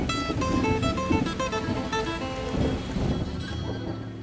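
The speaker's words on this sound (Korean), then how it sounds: "카르타헤나에 도착한 첫날 밤 갑자기 천둥 번개가 쏟아졌습니다" Heavy rain pours steadily while thunder rumbles low and close, with some tonal noises overlapping the storm's roar, at a marina in Cartagena.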